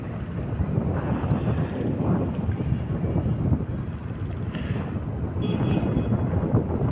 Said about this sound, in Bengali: আর অনেক বাতাসও আছে